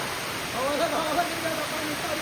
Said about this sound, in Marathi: आता लय मोठा पाऊस चालू आहे बघा